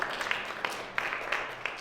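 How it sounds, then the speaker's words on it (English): Audience clapping at a spoken word event honoring Dr. Martin Luther King, Jr., scattered, loosely spaced handclaps over a soft room murmur, moderate and fairly close. "Give her a round of applause,"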